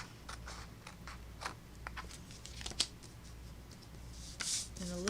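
Paper being snipped with scissors into a thin sliver, producing a few short, soft crisp cuts and light rustles up close and fairly quiet, with no talking.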